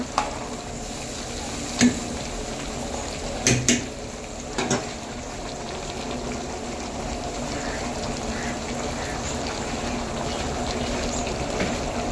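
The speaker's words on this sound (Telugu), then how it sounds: "మధ్య మధ్యలో తిప్పుతూ ఉండాలి ఫ్రెండ్స్ అడుగంటకుండా" Chicken fry being stirred in a pan at a roadside dhaba, a continuous frying sizzle with a few sharp scrapes and clinks of the spoon against the pan.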